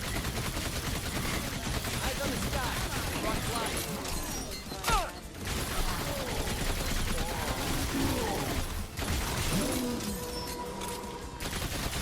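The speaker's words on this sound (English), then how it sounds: "I'm gonna pop off the special cannon" A special cannon firing in the video game Orcs Must Die! Deathtrap, with dense, loud rapid blasts and clattering impacts layered over busy battle noise while a voice talks throughout.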